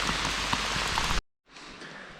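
Rain falling steadily on a surface during a Mount Fuji climb, a dense close patter that breaks for a brief silent gap and then resumes softer.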